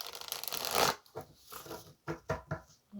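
A deck of tarot cards is shuffled close by, first as a long riffling rush and then as several short separate snaps of cards.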